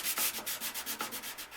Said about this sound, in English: a fresh 220 grit sanding disc that I just folded over and turned into a piece of hand sandpaper